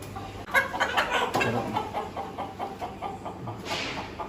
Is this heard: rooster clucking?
yes